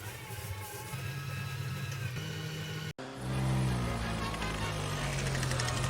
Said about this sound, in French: on va venir mélanger jusqu'à ce que le mélange blanchisse